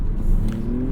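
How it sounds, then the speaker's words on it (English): Lexus ES 350 F Sport with a throaty Toyota V6 pulling hard under acceleration, a steady low engine drone with rising grunt, heard from inside the car for a brief second. "Throaty V6. Toyota makes a great V6."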